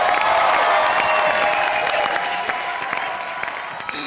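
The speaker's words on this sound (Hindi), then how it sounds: "उसके लिए भी जोरदार तालियां हो जाए।" A studio audience at a televised comedy show claps loudly and steadily, a dense wash of applause with light cheering that fades gradually toward the end.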